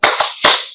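A classroom group's rhythmic clapping cheer, a few sharp unison claps in quick succession, close and loud, with no talking.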